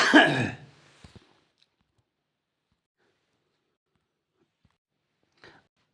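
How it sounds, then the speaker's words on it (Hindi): A single throat-clearing cough bursts out up close at the start, followed by near silence with a couple of faint clicks and a small rasp later on. "आज खांसी बहुत है"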